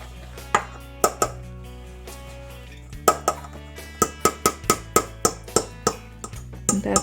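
A utensil knocks and scrapes against a bowl while cake batter with oil is mixed, giving sharp rhythmic taps that speed into a steady beat of about two per second over a faint background hum.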